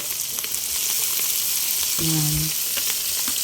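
Bopis innards sizzling steadily in a hot pan, with scraping stir strokes partway through and a voice briefly speaking over the frying.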